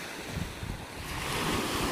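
Ocean waves washing onto a beach in Batangas at night, a broad rushing wash that swells toward the end, with wind buffeting the microphone and no voices.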